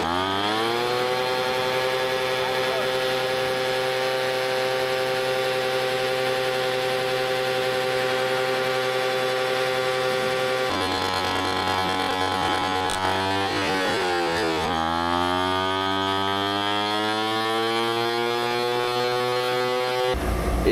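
A furnace blower fan runs with a steady loud hum and whine for the whole stretch, its pitch dipping and then climbing back partway through as the HVAC motor kicks off and on again. No one talks.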